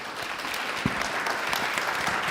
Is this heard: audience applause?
yes